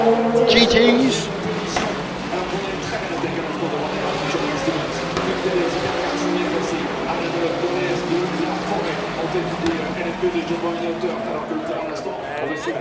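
Le Mans prototype race cars, a Cadillac and LMP2s, accelerate in a dense wash of engine roar and crowd noise, steady and fairly far off, with a commentator talking over the top throughout.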